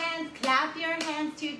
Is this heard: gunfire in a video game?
no